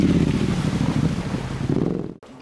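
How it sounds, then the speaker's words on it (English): A 2020 Ducati Hypermotard 950 motorcycle riding along a scenic road in Mexico, its engine a steady close drone with wind rush, cutting off abruptly near the end. "I'm riding a 2020 Hypermotard 950"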